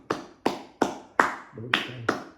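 Six hollow cupped-hand claps during a yoga breathwork session, evenly spaced roughly every third of a second, each a sharp close pop with a short resonant tail, alone in a quiet room.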